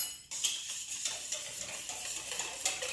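Spoon stirring salt into dough in a bowl while making esfirra, a soft rhythmic scraping and tapping repeated steadily for a few seconds, close and fairly quiet, with no voices.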